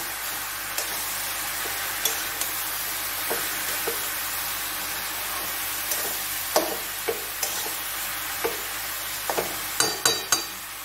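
Bottle gourd and prawns stirred in a pan, a continuous sizzling hiss broken by scattered spatula clinks and scrapes that bunch together near the end, with no talking.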